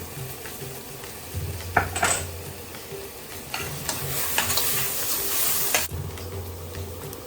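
Onion and tomato sauté in a pan with rock salt, stirred steadily; a continuous sizzle with scraping spoon strokes and a few sharper clanks, close and moderately loud, no talking.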